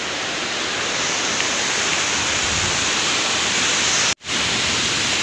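A waterfall at Chandranagar near Dapoli in the Konkan roars in a dense, steady rush of falling water, loud and close, with a momentary dropout near the end and no voices.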